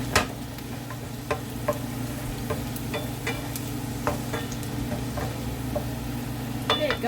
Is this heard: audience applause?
no